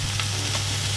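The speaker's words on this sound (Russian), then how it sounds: "Сейчас мы вас научим, как тофу жарить." Tofu sizzles steadily in a hot pan, a dense crackling hiss with a low hum underneath and faint stirring scrapes, no voices.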